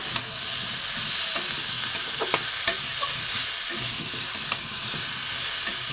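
Pumpkin and drumstick curry sautés in a pan with a steady, close sizzle, broken by a few scraping stirs and taps of the spoon.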